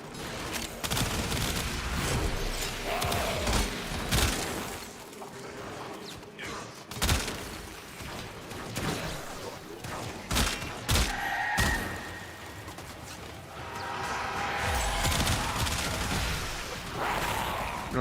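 Rapid full-auto burst gunfire from a weapon in the shooter game Warframe, dense repeated volleys of shots with impacts running throughout, fairly loud and continuous with brief lulls.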